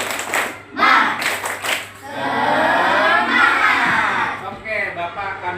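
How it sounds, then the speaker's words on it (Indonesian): Schoolchildren in a classroom do a rhythmic clapping cheer in short bursts of claps, then shout loudly and in unison. A teacher's voice is heard at the start. "Coba kita tepuk semangat lagi."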